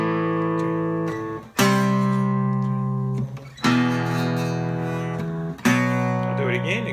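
Guitar power chords play the chorus of a song, a strummed chord struck roughly every two seconds and left to sustain, with brief string noise between changes and no talking.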